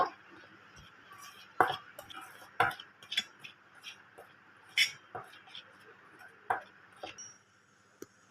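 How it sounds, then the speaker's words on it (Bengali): Dry ingredients, including salt and white sesame seeds, are stirred together in a bowl with a spoon, giving irregular light clinks and scrapes against the bowl, close and soft, with a little background speech. "সব উপকরণগুলো এবার আমি ভালো করে শুকনো মিশিয়ে নেব"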